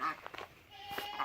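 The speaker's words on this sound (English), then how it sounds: "That's actually a mama duck right there" A mother duck gives a few short quacks and honks nearby against faint background noise.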